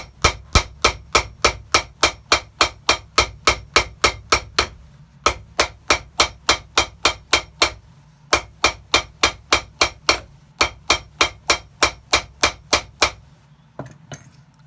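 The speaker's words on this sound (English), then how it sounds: "Let's get some more hammering." Steady, loud hammer blows strike full leather shoe soles, size 18, in quick regular runs, pausing briefly between bursts before resuming, with a few scattered final taps at the end.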